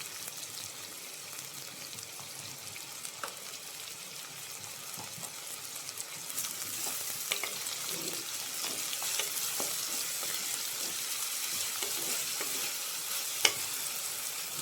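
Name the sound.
onions sautéing in a pan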